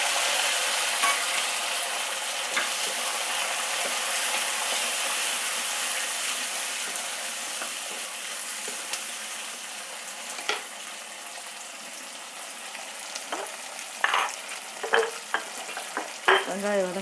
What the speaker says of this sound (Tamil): நல்லா எடுத்து பொரிஞ்சிட்டு கொஞ்சம் சீரகம், கொஞ்சம் கருவேப்பிலை, அப்புறம் இந்த சிதறணும்.